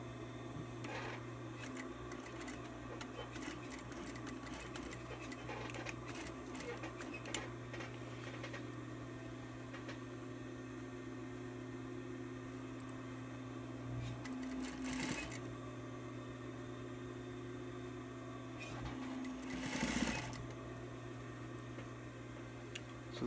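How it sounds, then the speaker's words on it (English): A home sewing machine runs steadily, top-stitching fabric with a continuous mechanical hum and rapid needle ticking, close and fairly loud, with brief louder bursts near the middle and end. "I don't know why my sewing machine's not rolling"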